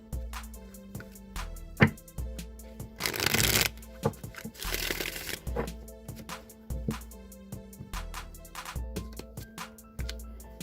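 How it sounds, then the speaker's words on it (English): Tarot cards shuffled repeatedly in quick riffling bursts, close up, with soft clicks and flutters between, no talking. "We'll give them one more shuffle."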